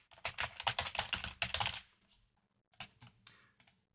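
Someone types an email address on a computer keyboard, a quick close burst of light key clicks lasting about two seconds, followed by a pause and a few last scattered taps.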